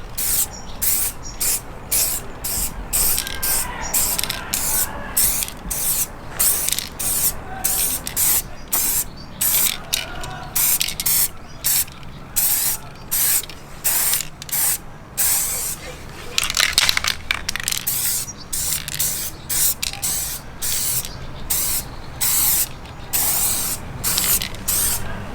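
Gloss black aerosol spray paint fired in a long series of short, sharp hissing bursts with brief gaps between, close and loud, on a car scuttle panel being refurbished.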